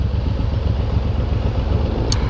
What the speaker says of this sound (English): It's another motorcycle.